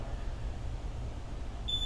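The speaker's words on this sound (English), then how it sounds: "you can hear the clock beep" A workout timer clock gives a single short, clear electronic beep near the end, sounding after a quiet stretch of low room hum during a home exercise session.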